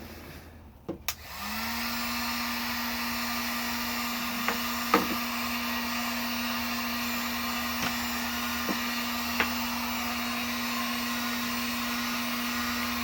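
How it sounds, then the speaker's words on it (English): A heat gun shrinking heat shrink tubing over a wire joint runs as a steady, close blowing hum after a click switches it on, with a few sharp taps and clicks scattered over the constant airflow. "As soon as we add this, the heat shrink, it shouldn't be coming off anytime soon."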